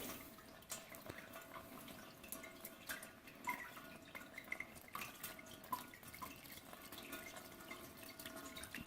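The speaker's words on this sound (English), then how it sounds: "He said pour it through a colander, through a paper towel." Swedish glogg drips from a paper towel lining a colander, a faint, irregular patter of small drops and trickles close by in an otherwise quiet room, with no voices.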